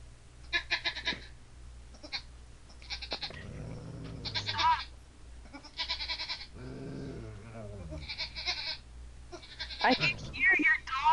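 A person imitates baby goat bleats, giving several short, wavering nasal cries in bursts with pauses between, close and fairly quiet, with some ordinary speech mixed in.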